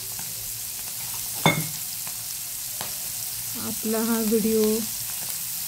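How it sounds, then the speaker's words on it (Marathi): Paneer tikka pieces fry in oil with a soft, steady sizzle, broken by a couple of sharp utensil clatters. A voice speaks briefly near the end. "तेलात छान फ्राय होऊन द्यायचं ते 5 मिनिटं असं"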